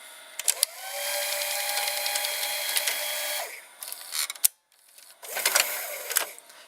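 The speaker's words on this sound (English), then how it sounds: "Very special sound that the motor does." An MTC MCR 215R VCR motor and tape mechanism running, giving a steady whirring hum with clicks and clunks as parts engage, close and fairly loud, then stopping and starting again.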